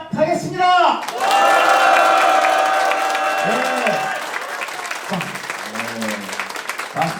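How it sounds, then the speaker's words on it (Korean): A crowd at an election campaign office opening in Uijeongbu bursts into loud applause and cheering, swelling after a short vocal call and then easing as voices speak again near the end. "여기에 계신 모든 분들의 힘찬 박수와 함성으로 시작하겠습니다."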